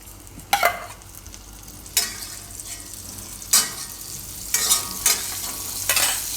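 Butter sizzles and spits on a heated tava over a gas flame, with short bright bursts of frying noise that flare up every second or so above a low, steady hiss.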